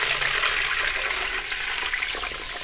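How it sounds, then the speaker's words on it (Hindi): A litre of water is poured into a cooking pot for dal chana and zeera rice, giving a steady, close rushing and splashing hiss against hot oil, continuous and fairly loud, no talking. "के साथ ही हम इसमें 1 लीटर पानी शामिल कर देंगे"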